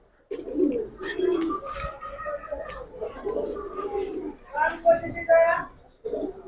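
Cobra pigeons coo in soft, throaty, repeated phrases nearby, fairly loud and continuous, with a few brighter calls near the end.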